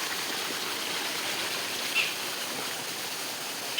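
Water pours from an overflowing tank as a steady, broad rushing hiss, continuous and moderately distant, with no voices.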